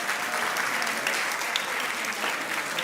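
Steady applause from a crowd at an evening art auction in London fills the whole moment, dense and even, with no voices rising above it.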